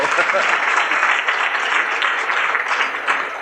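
A lecture audience in San Francisco breaks into applause, a dense, steady patter of many hands clapping that holds at full strength for the whole stretch.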